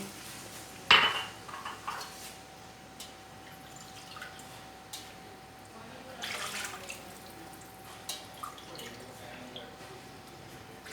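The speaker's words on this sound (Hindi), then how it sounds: "अब साथ ही डाल देते हैं इसके अंदर पानी।" Three cups of water pour into a pot for cooking noodles amid clanks of cookware and utensils, with a faint steady hum underneath.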